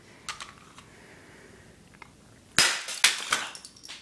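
A game controller is smashed against a hard surface, sending out a few sharp, loud plastic cracks and snaps after some faint clicks and rattles.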